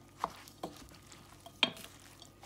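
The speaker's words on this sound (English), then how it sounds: "And we're gonna start mixing now." Crab cake mixture being mixed with flour, a few soft, sparse scraping and tapping sounds of a utensil against a bowl, close but quiet, separated by short gaps.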